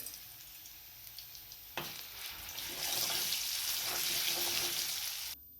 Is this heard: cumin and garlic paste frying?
yes